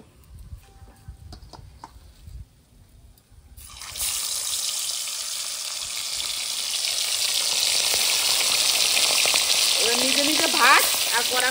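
Pomfret fish frying in a pan, lightly fried for a curry, with a loud steady sizzle that rises suddenly and holds for several seconds, nearby and alone.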